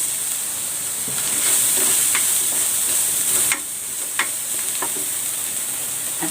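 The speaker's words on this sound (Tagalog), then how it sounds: "Igigisa ko na itong bawang. At ang sibuyas." Garlic and onion sauté in hot oil in a pan, with a steady loud sizzle and hiss and occasional scraping stirs.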